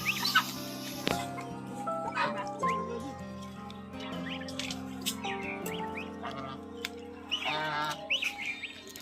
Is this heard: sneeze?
no